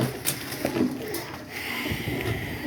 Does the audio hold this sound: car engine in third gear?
no